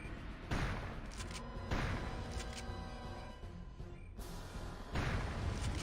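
Gunfire aimed at armored Space Marines in the shooter Turok 2: several sharp, loud bursts of shots separated by brief gaps, over a constant background hum.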